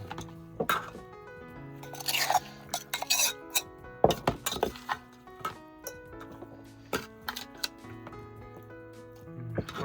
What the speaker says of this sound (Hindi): पूरा ऐसे चम्मच से उधर निकालो